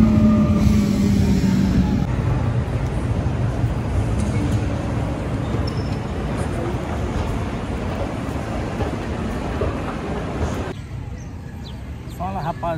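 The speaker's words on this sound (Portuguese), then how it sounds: "Quase perdi aqui o comboio, graças a Deus." A train arrives at a station in Portugal, a loud, unbroken rumble of wheels and carriages filling the whole stretch, with brief high squeals near the end and faint voices in the background.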